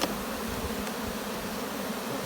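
Honey bees hum in a colony during hive work, a dense, continuous buzz of many insects close by with no voices.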